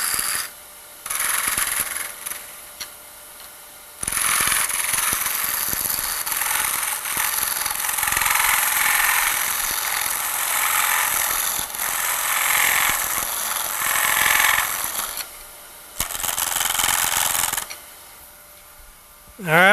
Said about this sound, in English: using a parting tool and just coming in here and cutting